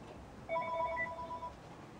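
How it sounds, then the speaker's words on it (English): A phone rings indoors in a home, one trilling ring burst of about a second rising faintly above the room's background hum, with no speech. "the phone call is probably be for me"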